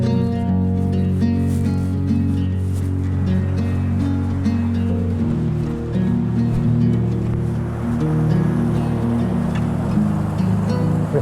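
A waterfall at Bashakill roars as a continuous broad rushing wash, heard from a distance with a low steady rumble underneath.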